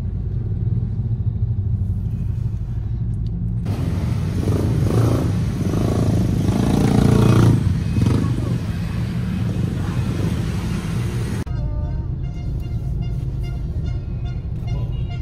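Motorcycles and other traffic stream past on a busy Philippine street, a loud continuous engine rumble that swells in the middle as vehicles pass close, then eases back to a steady roar.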